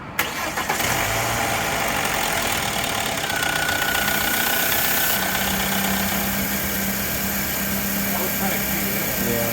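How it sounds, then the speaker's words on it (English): A BMW engine cranks and starts, then settles into a steady, loud idle with a faint knocking rhythm, while people talk nearby. "The engine is on"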